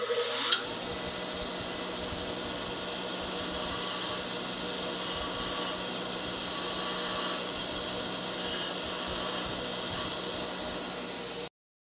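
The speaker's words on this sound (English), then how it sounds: "This is where I'm going to grind the heads of these," A power tool grinding the heads of shortened nails into slight domes in a workshop during a vintage Porsche 356 restoration, a steady hissing, rasping whine that runs continuously before cutting off abruptly.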